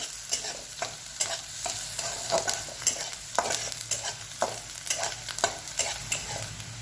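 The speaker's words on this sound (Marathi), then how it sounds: "आता हे सगळं चांगलं परतून घ्यायचंय।" Finely chopped onion mixture sautéed in a pan for a Marathi dill greens dish, with a steady sizzle and rhythmic spatula scrapes and taps every half second or so, close up and with no voices.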